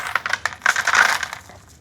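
Fireplace glass stones, cubic zirconia used for epoxy geode art, rattle and clink as they are handled, a quick run of close, crisp clicks alone for about two seconds.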